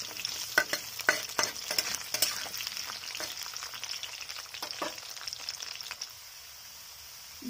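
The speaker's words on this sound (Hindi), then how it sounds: "अभी हम गाजर फ्राई करेंगे।" Carrots fry in a pan with a steady, bright sizzle, while a spoon scrapes and clatters against the pan in quick, irregular strokes close by, then the sizzle dies down toward the end.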